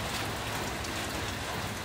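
Rain falls steadily at Dungawan Campsite, a dense, even hiss of drops close by with no breaks and no voices over it.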